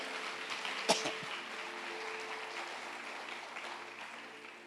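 A church congregation applauds: a sharp clap-like burst near the start, then a soft, diffuse patter of clapping that fades gradually, heard from a distance in a reverberant hall.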